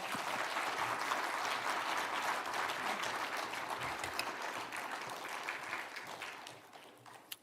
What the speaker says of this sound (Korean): 나오실 때 더 큰 환영의 박수 부탁드립니다.